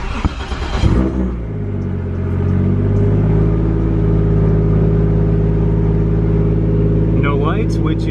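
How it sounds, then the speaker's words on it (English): A Toyota Mark II JZX100 engine cranks briefly and catches, then settles into a steady, close idle rumble with a deep hum, and a short faint chirp comes near the end. "Let's go ahead and put the e-brake down and start the Mark II."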